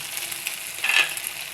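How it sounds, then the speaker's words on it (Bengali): Ingredients for egg noodles fry in a pan with a steady, soft broadband sizzle that swells briefly near the end of the short stretch. No voices are heard. "এটা আমি কিছুক্ষণ ভেজে নেব"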